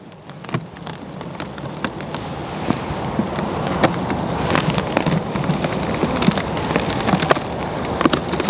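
Honeybees swarm and buzz around an opened hive during an early-February check, making a dense, steady drone that grows slightly over time. Sharp close ticks and taps are scattered through it, with wind in the background and no talking.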